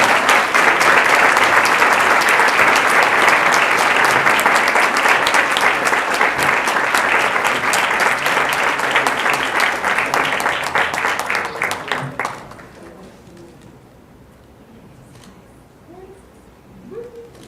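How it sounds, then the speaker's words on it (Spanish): Loud, dense applause from an audience at the Costa Rican Journalists' Day award ceremony held by the Colegio de Periodistas, sustained for about twelve seconds before fading out abruptly into a quiet room. "Damos todos un fuerte aplauso."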